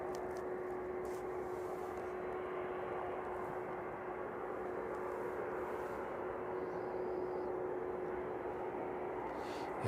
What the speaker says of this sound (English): the DHL 767 making its way towards the DHL apron this evening